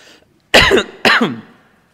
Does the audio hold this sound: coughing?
yes